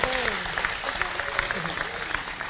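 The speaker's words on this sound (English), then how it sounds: "big round of applause" Audience at an inter-faith commemoration gathering applauds in a moderate, steady patter while a voice talks over the clapping.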